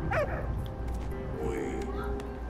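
A dog in the World War I video game Valiant Hearts: The Great War gives short yips and a whimpering bark at the start, over a steady game soundtrack hum, with a voice talking faintly.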